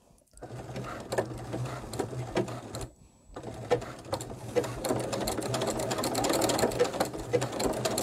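A sewing machine stitches a stained-glass-style quilt in short on-off bursts, steady rhythmic needle clatter close by with a brief pause midway, running alone without talk.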